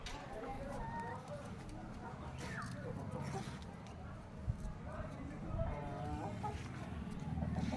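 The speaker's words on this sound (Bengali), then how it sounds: "এ হচ্ছে আমার মুরগি, আর এই হচ্ছে আমার মুরগির ঘর" Chickens cluck in and around a backyard henhouse, soft scattered clucks and calls over low background hum, with people talking nearby throughout.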